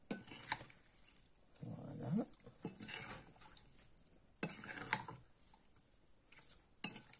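Marinated veal pieces for skewers stirred in a bowl, faint wet squelching and scraping with a couple of sharper utensil knocks against the dish, quiet and close, while someone talks briefly.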